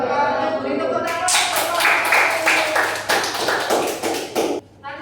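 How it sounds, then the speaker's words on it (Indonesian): Students clapping their hands in a classroom after a group presentation, a burst of dense, close applause starting after a second and running for several seconds before stopping abruptly, with a voice just before it. "Beri tepuk tangan"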